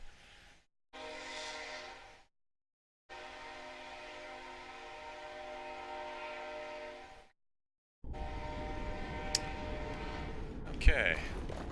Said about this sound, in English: And a train's going by.